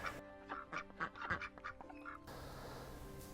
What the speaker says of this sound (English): on the right we have an area that's now free range by ducks